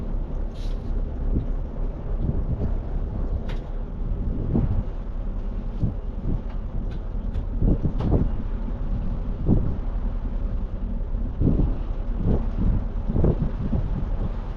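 Twin engines warming up, a steady low rumbling drone with occasional deeper surges, running continuously and fairly loud throughout.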